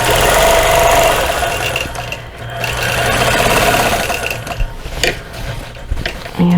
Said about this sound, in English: next we'll be doing the outline stitching around the blades